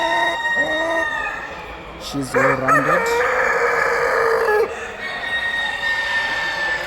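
Orpington roosters and hens at a large poultry show, a nearby rooster crowing loudly once amid a constant din of clucking and crowing birds, while someone talks briefly.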